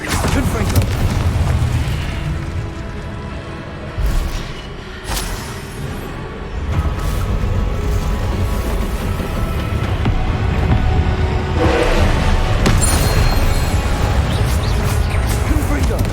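Confringo blasting spells exploding in Hogwarts Legacy, a series of heavy booming bursts over a continuous rumbling battle din, with sharper cracks near the middle and end.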